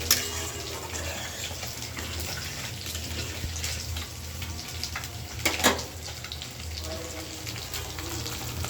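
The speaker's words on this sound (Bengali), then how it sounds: "জল দিয়ে দিলাম।" Water is poured into a hot pan of sautéed fish-curry masala, producing a loud hissing sizzle that settles into a steady bubbling simmer, with a couple of sharper clatters midway.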